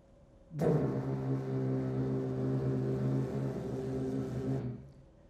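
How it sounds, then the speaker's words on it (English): A ship's foghorn sounds one long, loud, steady blast with a deep harmonic tone, holding for about four seconds before cutting off sharply. "with a blast on her foghorn"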